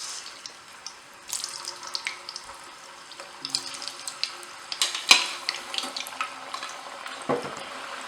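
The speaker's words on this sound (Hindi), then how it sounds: "अब हम इसको भी फ्राई कर लेंगे।" Two medium potatoes, cut up, frying in oil for Surti undhiyu, a bright crackling sizzle that rises and falls with scattered pops, alone without voices.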